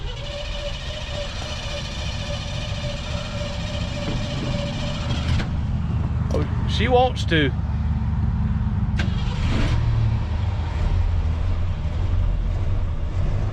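A 1968 Ford F100 pickup engine cranks and catches, then rumbles and revs up into a low, throaty idle; a person speaks briefly over it.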